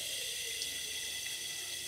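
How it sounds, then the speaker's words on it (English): Water sprays steadily from a wine glass bidet, a continuous hiss of running water that stays even and close throughout with no pauses. "this is kind of like a wine glass bidet"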